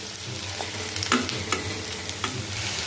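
Poha cutlets fry in hot oil over medium heat, giving a steady, close sizzle with a few light clinks and scrapes as they are turned, and no talking.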